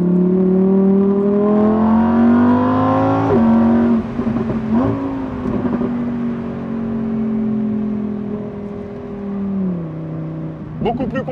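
Lamborghini Huracan EVO, 640 hp with a dual-clutch gearbox, engine droning loudly while driving, pitch climbing then dropping at a shift and rising again, close and steady inside the car.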